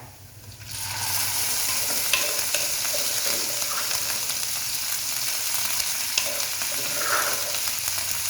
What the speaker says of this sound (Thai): แล้วเดี๋ยวคุณแม่ก็จะตักในครกมาผัดค่ะท่านผู้ชม